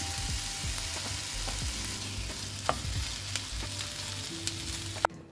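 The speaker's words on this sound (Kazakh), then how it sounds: "Пиязымызды салып, жақсылап қызартып қуырып аламыз." Sliced onions fry in a little oil in a hot pan, a steady close sizzle with occasional light clicks of stirring, no voices over it.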